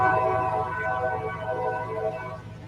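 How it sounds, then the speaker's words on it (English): A train passes close by with a continuous heavy rumble and sustained tonal, horn-like bands, loud and steady from start to finish with no voices. "You can hear the train"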